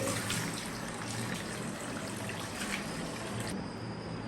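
Water runs and splashes steadily while hair is rinsed clean of oil during washing, a continuous close broadband wash with a faint tap-like hiss that changes tone near the end.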